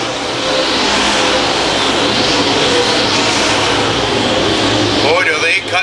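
USMTS modified race cars roar past together at I-35 Speedway, a loud, dense, steady engine wash that holds for several seconds and thins near the end.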